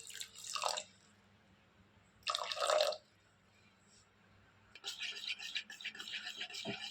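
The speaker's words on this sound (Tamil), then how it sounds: "இந்த சர்க்கரை கூடவே ஒரு 100லேருந்து 150 ml தண்ணி சேர்த்துக்கிறேன்." Water poured onto sugar in a pan for making syrup for Horlicks Mysore pak, two short splashing pours followed by a longer trickling, bubbling run of liquid, close and fairly quiet.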